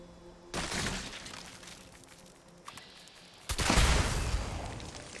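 Two sudden blasts burst out in Fallout 76, a short one early and a louder, longer one later that rumbles and crackles as it fades, with game noise between.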